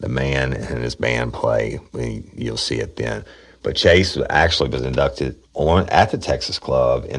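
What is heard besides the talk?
No distinct noise like a dog, phone or traffic.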